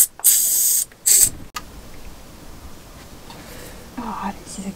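White anti-corrosion spray is applied to a canal boat engine in two loud, close hissing bursts, the first about a second long and the second shorter, followed by quiet background and a faint voice.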